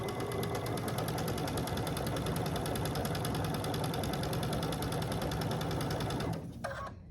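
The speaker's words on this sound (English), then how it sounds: "I'm going to stitch at 1/4 inch all the way down the long side of this fabric" A sewing machine stitches quilt fabric in one long continuous run, its rapid, even mechanical whir steady and close before stopping near the end.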